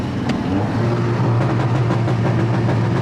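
Tuned Stage 2 Audi A3 engine at wide-open throttle from a roll, then downshifting, a steady loud drone with rising and falling revs and a few pops, close and continuous with no talk.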